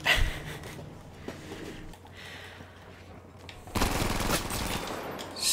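Gunfire in the Battlefield V video game, with a sharp burst at the start, scattered quieter shots, and a loud sustained volley of rapid shots in the latter half.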